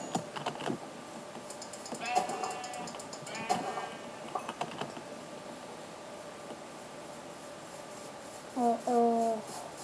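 Sheep bleat a few times near the end, a short wavering pair of calls after a stretch of clicking, tapping sounds and faint background noise.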